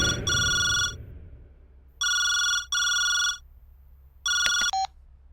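Telephone ringing in a film scene, loud electronic double rings repeating in bursts over a quiet background, the last ring cut short as the call is answered.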